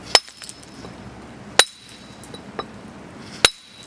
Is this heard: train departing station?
no